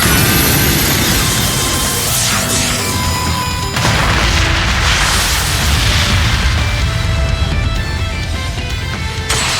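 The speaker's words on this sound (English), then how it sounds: "Lightning cannon, fire!" A lightning cannon fires in the video game Trails of Cold Steel 2, a loud, continuous roar of crackling blasts and booms that lasts the whole stretch with no voices.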